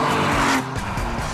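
A Lamborghini Miura's engine roars loud and close at high revs, a dense continuous howl that dips briefly after the first half-second before pulling on again.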